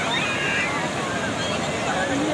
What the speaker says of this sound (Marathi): आले आले आले लाटा आला लाटा